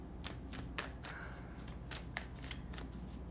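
Tarot cards shuffled by hand during a personal reading, a quick run of crisp riffling bursts and snaps, close and fairly quiet over a low steady hum.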